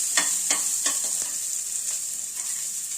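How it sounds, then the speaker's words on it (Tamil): Onions sizzle steadily in a pan of hot oil after green chillies, a close, bright frying hiss with a few clinks and scrapes of stirring at the start. "பச்சை மிளகாய் வணங்கின பின்னாடி வெங்காயம் போட்டுக்கணுங்க."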